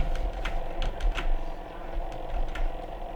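Numbers entered on a computer keyboard for an SBI bank cash journal entry, a quick run of sharp key clicks in an irregular rhythm, close and moderately quiet, with no talking.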